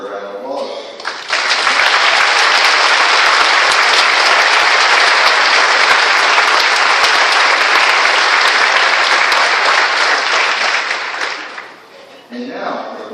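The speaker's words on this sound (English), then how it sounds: "Please give these excellent soldiers a round of applause." Sustained, loud applause from a graduation audience for soldiers of the graduating class at Fort Sill, swelling after a brief lead-in, holding steady for about ten seconds, then fading out as a voice resumes.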